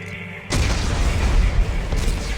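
Explosives detonate in Dead Space 3: a sudden heavy boom breaks after a short quiet lead-in, then rolls into a loud, sustained rumbling blast that fills the rest.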